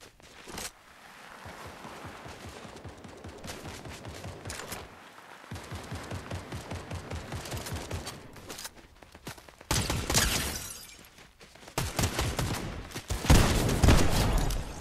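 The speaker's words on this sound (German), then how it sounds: "Oh, hier vorne wird geschossen." Gunfire in Fortnite, rapid automatic bursts and volleys rattling in irregular clusters, growing louder and closer toward the end with short pauses between strings of shots.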